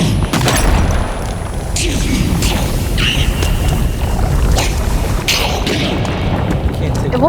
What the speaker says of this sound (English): It's like the bombs explode at the worst times possible.